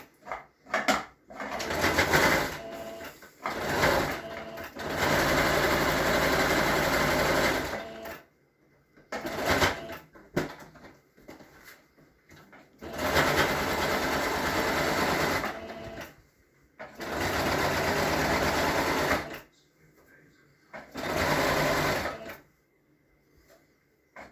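A sewing machine stitches around the outside of a seam in several bursts of steady whirring, each lasting a few seconds, separated by quiet pauses and small handling sounds.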